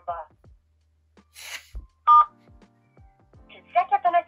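Keypad tones from a phone punching in a mobile number on an automated parking payment line, short bright bursts in an uneven run that end in a quick cluster, with an automated voice prompt heard between them.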